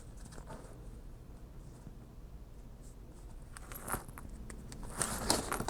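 Pen drawing a line across paper to connect measured dots on a DIY junk journal envelope topper, close soft scratching strokes that grow louder in short bursts toward the end.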